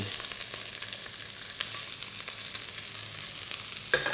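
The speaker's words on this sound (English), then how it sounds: "So I'm going to start it off on a nice high heat. Onions in." Onions fry on high heat in a wok for Sichuan chicken with cashews, a steady close sizzle broken by a few sharp crackles and metallic taps.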